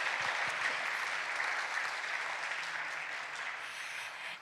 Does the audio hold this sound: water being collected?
no